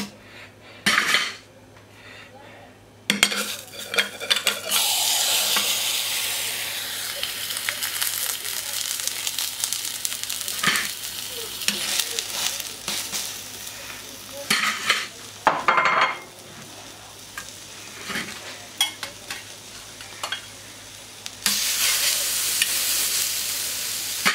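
Minced beef tartare, shaped in rings, cooks on an oiled plancha at medium heat around 220 degrees, giving a steady close sizzle broken by scraping utensil clatter and metal clinks, with no talking.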